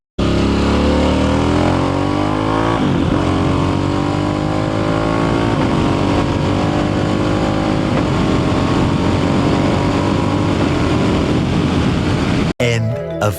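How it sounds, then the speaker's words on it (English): A Harley-Davidson Pan America ST motorcycle exhaust while riding, a loud continuous engine drone with rising and falling revs as the bike accelerates through gears, close and dominant throughout before cutting off abruptly near the end. "I'm gonna put a sound clip of the exhaust while I'm on board the motorcycle so you guys can hear what it sounds like."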